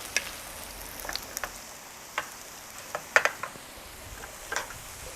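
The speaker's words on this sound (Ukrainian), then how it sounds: "і смажимо до готовності до золотої скоринки з одної сторони, потім перевертаємо" Potato pancakes (deruny) fry in a pan with oil, a soft steady sizzle broken by scattered sharp pops and crackles at irregular intervals.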